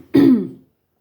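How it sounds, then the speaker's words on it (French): A woman clears her throat once, a short rough rasp close by that fades out over about half a second, with no talk around it. "je me racle la gorge."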